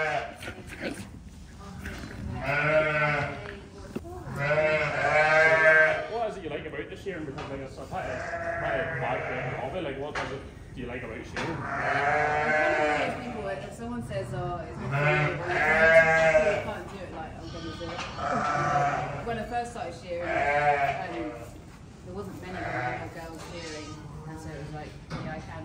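Sheep and lambs bleat repeatedly at close range in a lambing shed, loud wavering calls overlapping one another throughout, with people talking at times between them.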